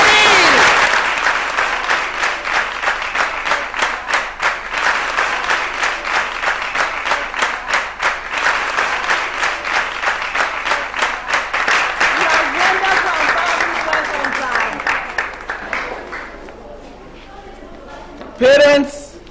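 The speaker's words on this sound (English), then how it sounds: "Let's give him a round of applause, everybody!" A large audience at a school prize-giving ceremony claps loudly for the principal, sustained dense applause for about fifteen seconds before it fades to near silence, followed by a brief burst of sound at the end.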